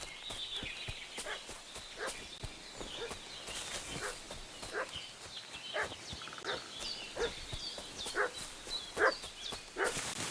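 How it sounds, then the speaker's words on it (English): Dog barking in Kingdom Come: Deliverance II, a string of short, fairly loud yelps scattered across the scene over a steady ambient background, with no talking. "What's that dog making such a fuss about?"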